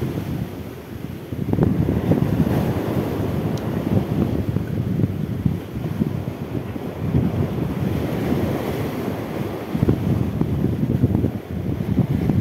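Sea waves surge and wash in continuously on a shore beside a protective wall, with heavy wind buffeting the microphone throughout; the rolling surf is loud and close, with no voices.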